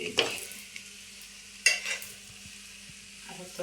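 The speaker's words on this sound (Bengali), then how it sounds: "তরকারি দিয়েছি ভেজে রান্না হয়েছে" Vegetable curry frying in a pan, soft sizzling under a couple of sharp stirring scrapes and clinks, fairly quiet and close, with no one speaking.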